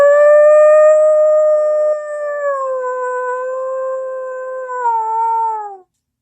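A human voice imitates a higher-pitched dog howl in one long, loud, sustained wail that drifts slightly lower in pitch before cutting off.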